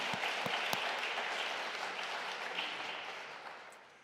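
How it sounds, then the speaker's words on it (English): A church congregation at a worship service bursts into applause, a dense wash of many hands clapping that holds steady and then slowly fades out over about four seconds. "You can applaud for that."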